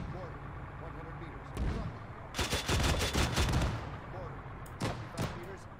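Mortar and gunfire in the video game Arma 3, with a dense burst of heavy booms and crackling shots in the middle, then a few scattered blasts, all under voices talking.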